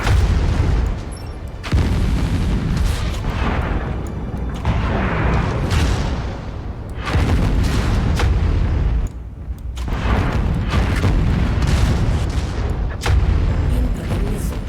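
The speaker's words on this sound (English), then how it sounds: "Incoming missile." Missiles exploding in the mech combat game MechWarrior 5: Mercenaries, a dense run of loud, booming blasts and gunfire-like bursts that keep coming almost without a break, with brief lulls between heavy impacts.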